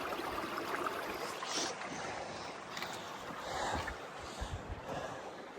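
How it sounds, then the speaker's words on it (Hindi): Meltwater flows hidden beneath rocks on a glacier in the Naran Kaghan mountains, a steady faint rushing wash with gusts of wind over the microphone and no talk. "ये जो जितने भी पत्थर आपको नज़र आ रहे हैं इनके नीचे से पानी फ्लो कर रहा है"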